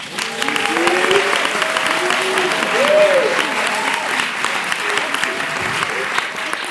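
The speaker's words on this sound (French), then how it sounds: "Vous pouvez les applaudir très fort." Loud, sustained audience applause for students after a theatre company's performance, a thick, continuous roar of clapping with voices and cheering calls rising through it.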